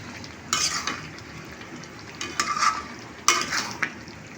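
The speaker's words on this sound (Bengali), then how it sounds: "আমি এখন এটাকে একটু লাড়িয়ে দিব।" Stirring roast in a pan: three bursts of scraping and clinking utensil work over a low, steady sizzle, close by and fairly quiet.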